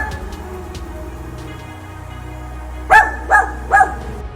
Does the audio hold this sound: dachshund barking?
yes